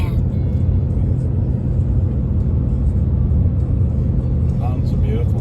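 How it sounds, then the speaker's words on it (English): A vehicle drives along a flat desert side road near Las Vegas, Nevada, giving a steady, loud low engine and road rumble that fills the whole stretch, with possible faint murmured voices underneath. "I'm going to film us driving in."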